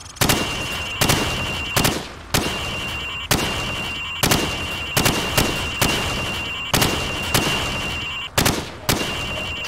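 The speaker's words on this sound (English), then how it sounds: "I want you to shoot the targets through the wood." Rifle shots fired through plywood targets in Call of Duty 4: Modern Warfare, about fifteen sharp, loud reports in irregular bursts over a steady high electronic tone.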